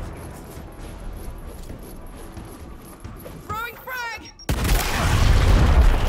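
A grenade blast in the video game Gears Tactics hits as a sudden loud boom late on, followed by heavy sustained rumbling, after a stretch of quieter game sounds with a person talking.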